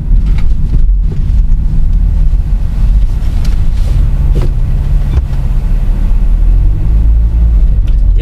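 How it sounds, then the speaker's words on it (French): A petrol-engined Volkswagen Caddy driving along, its engine a smooth low steady hum with rumbling road and wind noise, no strong vibration, continuous throughout with no talk. "C'est beau un moteur qui ronronne. Elle fait un beau bruit."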